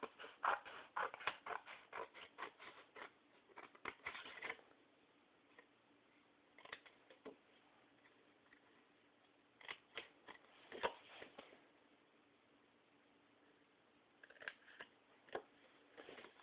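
Scissors snipping through paper squares while making a Valentine's Day treat box, rapid close bursts of crisp cutting clicks in quick runs with quiet gaps between, fairly faint and with no voices.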